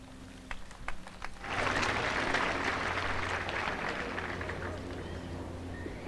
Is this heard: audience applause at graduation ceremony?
yes